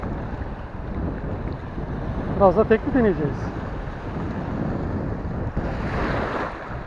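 Wind rumbles steadily against the microphone outdoors by the sea while mullet fishing, with a brief spoken phrase partway through and water washing in the background.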